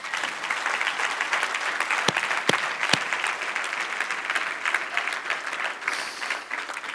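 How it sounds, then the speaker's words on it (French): An audience at a French-language church gathering claps together in sustained, dense applause, loud and close, with a few sharp individual claps standing out and no speech over it. "Est-ce qu'on peut lui donner une main d'acclamation?"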